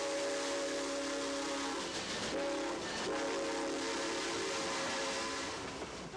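A train on the Eureka Springs and North Arkansas Railroad sounds its whistle in three loud blasts, two short and one long, over a steady close rumble of rolling cars.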